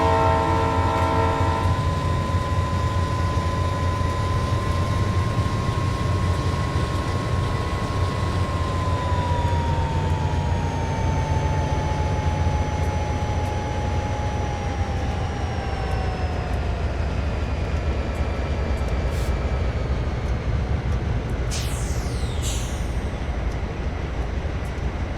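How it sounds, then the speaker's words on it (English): A loaded single-stack freight train on Donner Pass in Train Simulator, heard as a loud, continuous rumbling roar with a steady, slowly falling horn-like tone and brief high squeals near the end. "We've got another single stack loaded train coming the other way."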